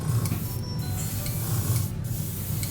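Aerosol spray paint applied to a plastic scale model in light coats, a continuous close hiss with two brief pauses between bursts, loud and steady, with no talking.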